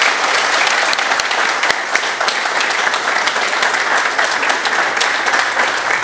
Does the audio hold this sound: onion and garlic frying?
no